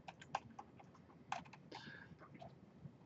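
Keyboard typing in a few scattered bursts of clicks, quiet and close, with no talking.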